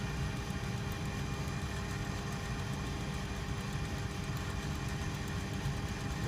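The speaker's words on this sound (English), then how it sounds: "I can feel little vibrations, so apparently the engine's turning." A Boeing 727 jet engine turning over during a cold start gives a steady, even mechanical hum and whine with a low rumble, continuous and unchanging throughout.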